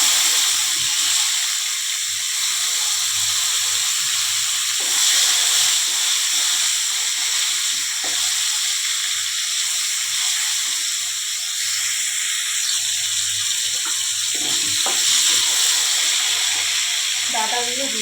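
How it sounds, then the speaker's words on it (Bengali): Pieces of papaya and green banana fry in hot oil over already-fried tempering spices, a steady close sizzle and hiss running throughout, broken by occasional knocks and scrapes of stirring. "পেঁপে কাঁচকলাগুলো একটু ওই তেলের মধ্যে ভেজে নিচ্ছি"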